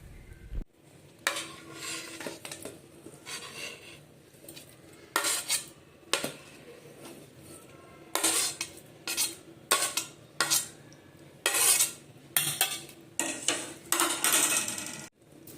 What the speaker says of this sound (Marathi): आता याला आपण मिक्सरच्या भांड्यात टाकून घेऊया